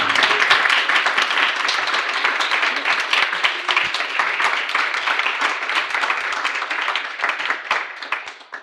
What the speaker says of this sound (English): Maybe one small round of applause for...